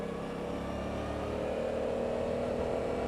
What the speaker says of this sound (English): that engine braking is fantastic